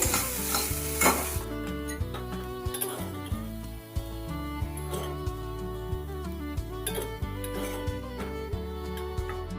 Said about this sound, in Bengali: ছানাটা আমি একটু অল্প করেই ভেজে নেব।